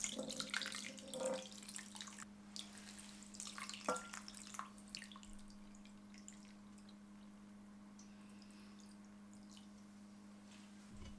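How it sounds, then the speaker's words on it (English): Water runs from a tap into a soup pot for Vietnamese chicken noodle soup, a steady nearby splashing that is busier at first and then settles into an even flow, with no talking. "Pour in the water."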